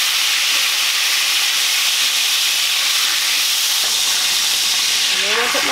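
A hot pan sizzles with bacon grease and butter during deglazing, a loud continuous hiss and steam roar up close, with a brief burst of stirring or splatter near the end.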